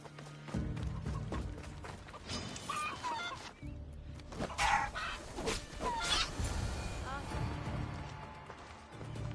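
Chickens cluck and squawk in Assassin's Creed Odyssey, a jumble of close fowl calls and honk-like cries heard alongside game sounds and speech.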